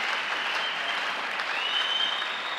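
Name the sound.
church congregation applauding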